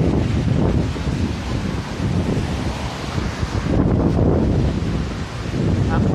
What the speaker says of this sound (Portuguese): Força do vento